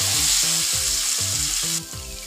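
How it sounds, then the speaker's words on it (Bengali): Potato pieces fry in hot oil for a papaya and potato curry while a spoon turns them in the pan. A continuous sizzle runs under a repeated scraping rhythm of stirring strokes, and the sizzle drops slightly near the end. "আলুটাকে ভালোভাবে ফ্রাই করে নিতে হবে এবার নেড়ে নেবো আলুটাকে ভালো করে"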